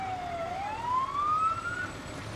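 A single siren from a Fallowfield Fire and Rescue engine or ambulance wails and rises in pitch as the trucks roll along in a community fair parade, loud and clear over a steady outdoor rumble.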